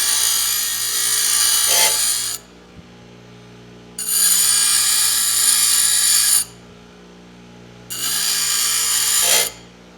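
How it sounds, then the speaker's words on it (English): A bench grinder puts a small bevel on a forged steel hinge piece in three loud bursts of steady high grinding, each about two seconds long, with brief quiet gaps where the wheel hum continues alone. "We'll just come over here and we'll grind just a little edge down."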